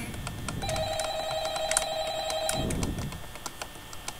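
Electronic telephone ring from the Five Nights at Freddy's horror game, a sustained warbling tone lasting about two seconds over low background hum, then fading out.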